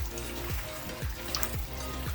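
Vinegar is poured over a rusty Detroit Series 60 engine part, a steady close splashing trickle with soft recurring gurgles and no voices.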